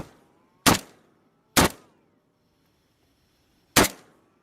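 Three sharp, loud rifle reports from an AK-47 with an AKMS folding stock, the first two about a second apart and the third after a longer pause, each followed by a short ringing decay, with no talking.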